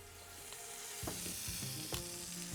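Steak sizzles steadily on a very hot Ninja Woodfire outdoor grill as oil is added to the fat, a constant bright frying hiss with a few soft clinks and scrapes, close and without talk.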